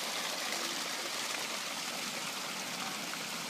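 Water cascading down a waterfall near a cave in a park, a steady bright hiss and splash heard from a distance, even and unbroken with no voices.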